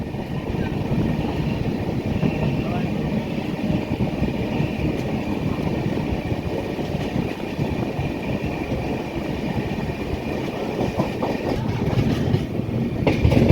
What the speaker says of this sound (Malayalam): കല്ലായി റെയിൽവേ സ്റ്റേഷൻ നിർത്താതെയാണ് പോകുന്നത്